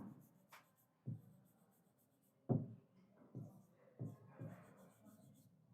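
Chalk or marker writing on a board in a physics class about vernier callipers, a few separate scratchy strokes at an irregular pace, near and fairly quiet, with faint room noise between them.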